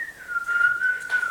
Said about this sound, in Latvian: Beidz svilpot, kas tev ir?